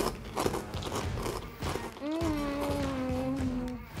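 Crisp crunching bites and chewing up close, followed by a voice humming a sustained pleased note over the chewing.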